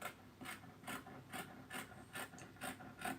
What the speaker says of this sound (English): And we are cutting.